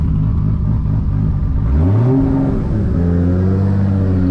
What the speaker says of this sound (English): So I need to find a way how to keep the RPM at a certain level, so that way it'll be a smoother engagement.